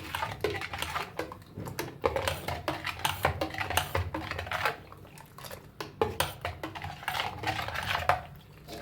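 A spoon stirs sugar, peanuts, salt, chopped coriander and mint together in a bowl, giving close, busy clinks and scraping taps that run steadily throughout.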